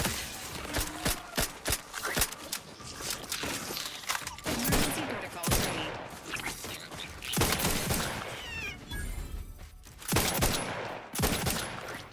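A gun fired in the video game The Outer Worlds 2, in repeated loud bursts and single shots with brief gaps, mixed with other game effects and music.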